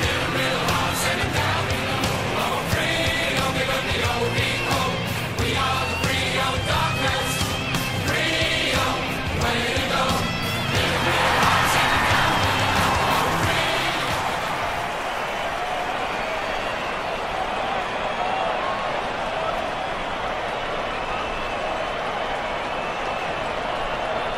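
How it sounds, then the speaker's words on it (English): Broad, continuous crowd roar in an AFL football video game as teams run onto the ground, with dense cheering and music-like bands early on, settling into a steadier wash of crowd noise. "Fremantle lifted by the noise of the crowd as they make their way onto the ground."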